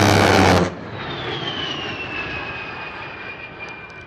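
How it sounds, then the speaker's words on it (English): A military jet aircraft, the A-10 Warthog, passes with a loud, steady roar and a falling high whine that continues after a brief burst of louder noise at the start. "my favorite plane of all time is actually still in use. The A-10 Warthog"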